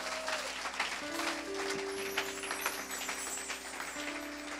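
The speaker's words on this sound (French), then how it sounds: "If you want to clap, clap." Audience applause during a church sermon on prayer, a steady wash of many hands clapping that holds throughout, fairly close and full, with no talk over it.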